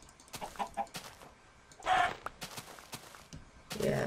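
Chickens cluck in a blocky sandbox video game, several short clucks and a longer squawk scattered over a few seconds, close and fairly quiet.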